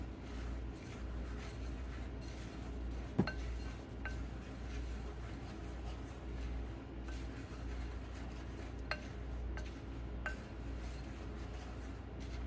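Sugar-free pumpkin spice cookie ingredients being mixed in a bowl, a faint low rubbing stir broken by a few sharp clinks of utensil on the bowl, quiet and close with no talk.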